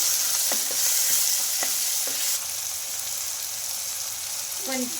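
A tomato curry sizzles loudly in a pan while a spoon stirs it, with a few scraping knocks over a bright, steady hiss that eases slightly partway through.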